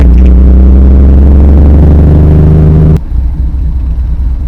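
A 1954 Jaguar XK120 OTS engine roars loud and close while driving, a deep steady rumble that drops abruptly to a quieter idle-like drone partway through.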